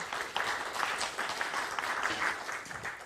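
Steady, fairly faint applause from an audience at a Korean education ministry briefing on a school building project, dense clapping continuing evenly for a few seconds after a presentation.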